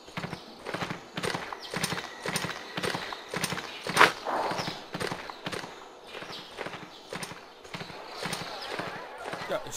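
Horse hooves clip-clopping in a steady rhythmic gait while riding in the video game Swordsman, with a brief whinny partway through, heard alone at moderate volume.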